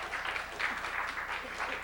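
An audience at a keynote address for a spring symposium claps in a loose, fairly faint patter that holds steady throughout, without any cheering.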